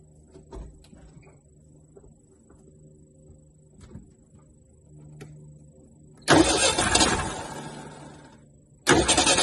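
A Dodge Charger's engine cranks over and fires up, a loud burst of starting roar after a quiet stretch of small handling noises, then a second loud surge at the very end.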